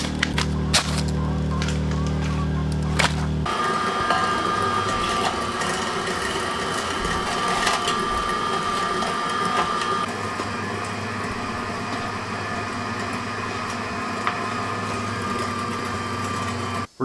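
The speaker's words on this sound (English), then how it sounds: "We're just about done grinding the sausage meat through the grinder on the fine plate" A meat grinder grinds moose sausage meat through a fine plate, a loud continuous motorized whir with mechanical rattling and a shift in tone early on, running steadily throughout without talking.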